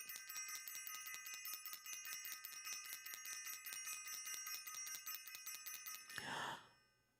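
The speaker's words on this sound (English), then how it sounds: "let me ring the bell again for self-invested" A small bell, like a bicycle bell, rings in a rapid, continuous trill for about six seconds, loud and close. It ends abruptly with a breathy exhale.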